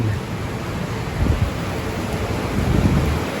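Rain falls steadily on pigeons in an outdoor aviary loft, a dense, even hiss with low wind-like rumble, close and continuous without clear individual drops.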